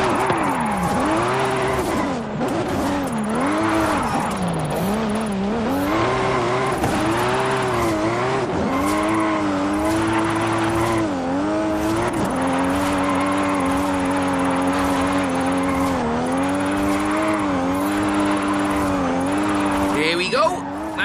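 A car drifts through a tough corner in Forza Horizon 5, its engine revving and wavering in pitch with tire squeal, loud and continuous while someone talks over it.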